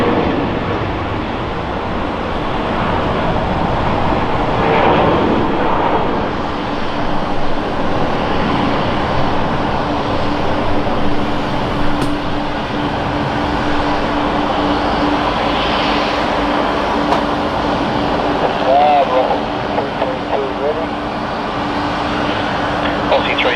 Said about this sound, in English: I want to show you guys another arrival on the left runway.